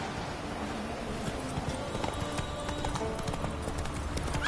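Hooves of the horse Roach clip-clop steadily as it gallops in a video game, a continuous rapid drumming rhythm at moderate volume over a constant background wash.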